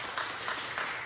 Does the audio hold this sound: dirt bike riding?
no